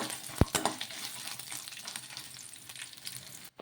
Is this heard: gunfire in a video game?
no